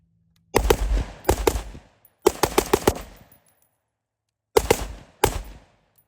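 Rapid bursts of rifle fire from an LMT rifle with an 11.5-inch barrel, loud and close: two quick strings of shots, a pause, then two more short bursts, with silence between groups.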